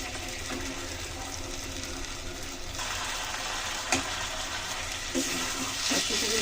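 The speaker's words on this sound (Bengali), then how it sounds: "সুন্দর করে কষিয়ে নিলাম, এখন জল দিয়ে দিচ্ছি।" Water is poured into a pan of egg and potato curry (dim bhuna), a steady close rushing gush that swells partway through and runs on with a few light clinks.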